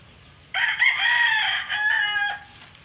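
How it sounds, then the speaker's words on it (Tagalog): A rooster crows once, loud and close, at a small poultry farm. The crow is a long, drawn-out call that dips briefly near its middle, with faint background noise before and after. "Ayan mga kamanok."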